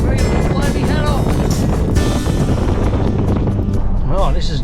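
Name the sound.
strong wind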